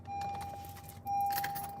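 Car keys jangle in a metallic rattle as a car is switched off, a steady low engine and air-conditioner hum underneath that swells louder partway through.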